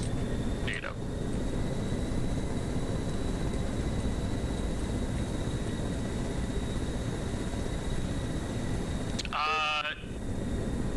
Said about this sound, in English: We've got a fucking Apache really high up in the sky